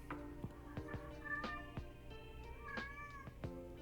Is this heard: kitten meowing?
yes